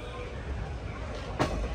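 Narayanadri Express hauled by a WAP-7 electric locomotive pulls out of Tirupati railway station: a low, steady rolling rumble heard from inside the coach, faint throughout, with a brief brighter rattle near the end.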